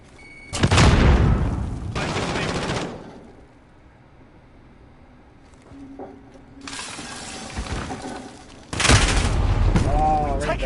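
Modern Warfare gameplay with a grenade blast and bursts of gunfire, loud booming and crackling bursts separated by quieter stretches, with a voice briefly heard between them.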